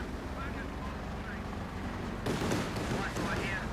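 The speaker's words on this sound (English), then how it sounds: "And the guys are caught by the artillery cover." Artillery fire in Company of Heroes 2 during a 2v2 match: a sudden heavy blast and rumbling impacts burst out partway through, over a low game soundscape, with a commentator talking.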